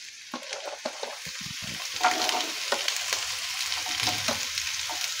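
Beans frying in a pan for a vegetable dish, a soft steady sizzle broken by light crackles and scraping stirs, close and fairly quiet, with no talk over it.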